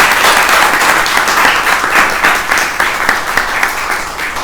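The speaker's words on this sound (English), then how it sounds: "So a big round of applause," An audience applauds at the close of a book discussion event, with loud sustained clapping from a room full of people filling the whole stretch.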